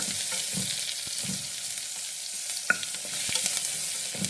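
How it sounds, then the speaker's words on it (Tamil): Two large sliced onions sautéing in a pan for millet pulao, a steady close sizzle broken by repeated stirring scrapes and a brief metallic clink, no voices. "பாருங்கள், ஒன்றா இருக்கிற அந்த பெரிய வெங்காயம் தனித்தனியாக பிரிஞ்சு போகிற அளவுக்கு வதக்கி விடுங்க"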